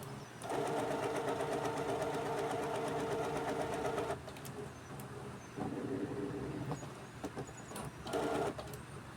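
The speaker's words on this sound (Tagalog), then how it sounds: "Kailangan kasi itong printer na to palagi naka-open para yung heat niya ba" Printer running continuously with its cover left open, a steady mechanical whirring hum with rapid rhythmic ticking that briefly drops and resumes, close and fairly even throughout, no voices.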